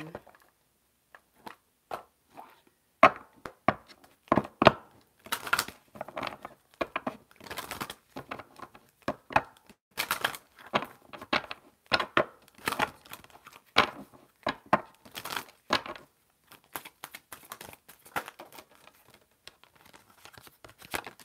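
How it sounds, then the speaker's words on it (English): Tarot cards are shuffled and pulled by hand, producing close, irregular bursts of crisp papery riffling and snapping separated by short silences, with no talk. "I'm gonna pull some more cards to see what's going on."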